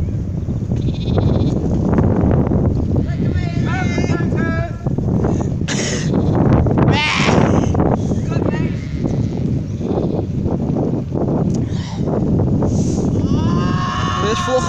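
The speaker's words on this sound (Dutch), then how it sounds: "Hey, schapen!" Sheep bleat repeatedly and close by on a farm, loud wavering calls overlapping one another, with people talking among them.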